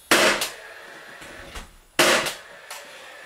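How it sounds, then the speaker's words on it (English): Nails driven into wall studs while fitting a closet shelf: two sharp broadband impacts, each followed by a quick secondary hit, with a softer knock between them. The sound is close and loud with no voices. "we're going to put 2 nails on each stud and 2 nails in each corner"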